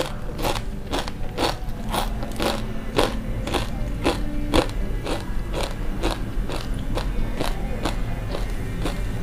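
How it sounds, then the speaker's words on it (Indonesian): Crunchy fried spinach chips being bitten and chewed up close, a steady series of about fifteen sharp, crackly crunches in a regular rhythm, loud and clear with no talking. "Keripik bayamnya renyah banget. Nah, kedengarannya teman-teman renyah banget."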